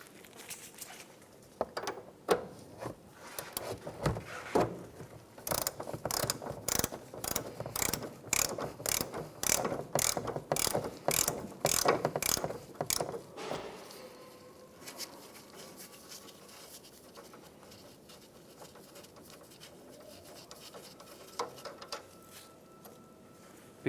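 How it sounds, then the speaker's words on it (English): A 17mm ratchet wrench clicks while a sway bar link bolt comes off a 2011-2016 Hyundai Elantra, a near, quick run of sharp ratcheting clicks in the middle, then quieter mechanical handling. "we'll go ahead and put a 17mm wrench on there"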